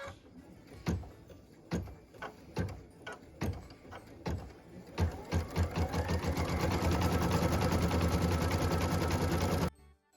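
An embroidery machine stitches a tack-down line on felt for a Christmas ornament, first in spaced single needle strikes, then settling into a fast, steady, loud rattle of stitching that runs close-up until it stops just before the end.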